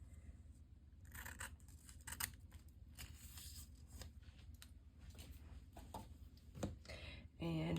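Scissors snipping a paper magazine cutout, with a series of close, quiet cuts and paper rustles at an irregular pace, and faint handling noise.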